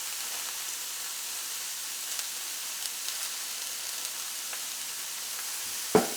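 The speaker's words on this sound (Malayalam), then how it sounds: "ഇതെല്ലാം കൂടിയിട്ട് നന്നായിട്ടൊന്ന് മിക്സ് ചെയ്യാം" Shredded cabbage, carrot and grated coconut being mixed in a pan for thoran make a soft, continuous sizzle with light stirring scrapes and a sharp clink at the end, with no talking.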